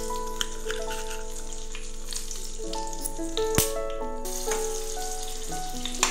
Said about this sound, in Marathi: मी 2-3 इथे मिरच्या पण घेतलेल्या आहेत, त्यांना पण मीठ लावून मी फ्राय करून घेणार आहे।